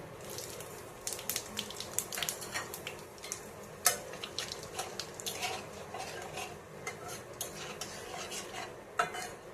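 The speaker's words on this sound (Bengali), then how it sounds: "এই তেলে ফোড়ন দিয়ে দিচ্ছি তেজপাতা আর জিরে" Bay leaf and cumin seeds temper in hot oil for a ridge gourd and fish curry, giving a steady close sizzle broken by frequent scraping stirs and light clinks of a utensil against the pan.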